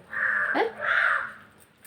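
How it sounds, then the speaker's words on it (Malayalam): Two loud, harsh crow caws close by, the first short and the second drawn out, with a quiet pause after. "പോ കാക്കച്ചി നിനക്ക് വേണ്ടല്ലോ ഇതൊന്നും പിന്നെ എന്തിനാ നീ ഇങ്ങനെ ഇടന്ന് ബഹളം വയ്ക്കുന്നത്"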